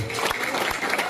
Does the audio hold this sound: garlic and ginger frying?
no